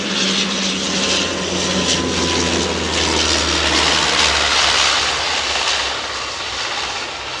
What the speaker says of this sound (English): This is the ATR, isn't it? Prop. Turbo prop. Now this is feeder aircraft.